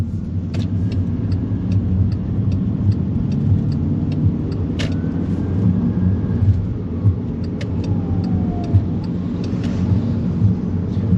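Manual-transmission car accelerating in third gear through city streets, a steady low engine rumble with road noise and faint clicks, continuous and close from inside the cabin.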